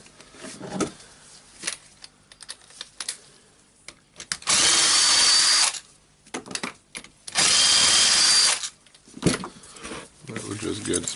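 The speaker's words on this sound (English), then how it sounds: "now I will try to finish that with a drill" Two sustained bursts of a power drill whirring, each lasting over a second, during disassembly of a Makita HM1202C demolition hammer, separated by handling clatter and quiet talk.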